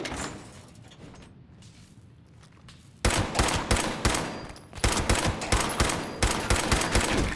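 Rapid bursts of gunfire in the Fallout 76 Wastelanders game: a quiet stretch gives way to loud, dense automatic shooting with sharp repeated cracks that continue steadily to the end.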